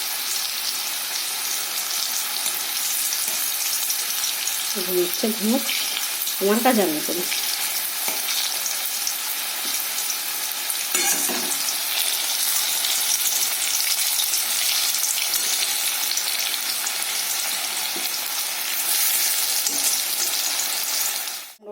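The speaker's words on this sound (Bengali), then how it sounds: "কুমড়ো ভাজাটা আমার হয়ে গেছে, কুমড়োটা আমি ভেজে নিয়েছি।" Pumpkin frying in oil in a kadai, a close, continuous sizzling hiss with occasional utensil scrapes and clinks; someone speaks briefly early on over the frying.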